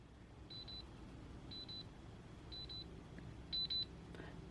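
A Majority Knapton DAB+ radio alarm clock sounds its alarm: four short bursts of rapid high beeping, evenly spaced, over quiet background hiss, with the last burst louder.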